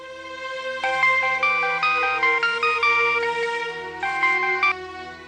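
A bright electronic ringtone melody plays loudly and steadily, its tune repeating in phrases with no voices over it.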